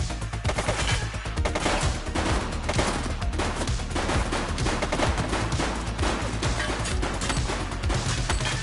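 Rapid gunfire crackles nonstop in The Precinct police game, with quick bursts of shots layered thickly like a sustained firefight throughout.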